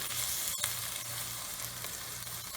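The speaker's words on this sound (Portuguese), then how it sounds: "Deixo ele ele fritar um pouquinho aqui," Something fries in dendê palm oil in a pan, with a loud, steady, crackling sizzle close up and no talking.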